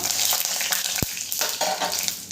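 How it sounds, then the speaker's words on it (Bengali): Bay leaves, a dried red chilli and Bengali five-spice fry in hot oil for a vegetable khichuri, giving a steady close crackling sizzle with a few soft stirring scrapes and one sharp low knock partway through. "ফোড়নটাকে একটু নেড়ে চেড়ে ভেজে নেবো"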